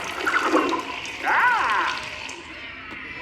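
A water spray effect during the Muppet*Vision 3D show at Disney's Hollywood Studios gives a hissing, splashing burst with a gurgling swirl in the middle, heard over faint theater ambience without clear talk.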